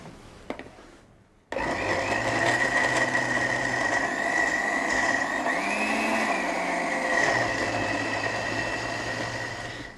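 A kitchen blender whirs steadily as it purees spinach and avocado with salt and pepper for a spring salad, starting abruptly after a brief quiet moment and running loud and continuous to the end.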